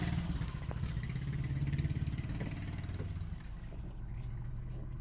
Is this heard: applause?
no